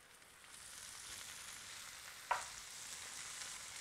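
Corn kernels frying with onion, chili and pepper in a pan for a spicy salsa, a steady soft sizzle throughout with one brief sharp clink or stir near the middle.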